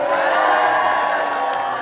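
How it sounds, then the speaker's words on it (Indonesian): A press-conference audience at a film gala premiere cheers and whoops loudly and without a break for a team named Lastri, with a dense crowd roar throughout. "Coba boleh tepuk tangan tim Lastri"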